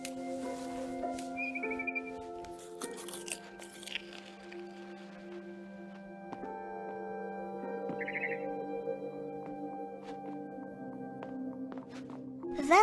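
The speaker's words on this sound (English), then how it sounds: "Then I heard chirping outside my window. It was a barn swallow going back to her nest." A barn swallow chirps outside a window in What Remains of Edith Finch, short faint bird calls heard twice over a soft sustained musical drone.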